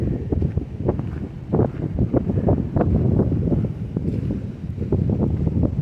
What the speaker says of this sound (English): that wind is chilly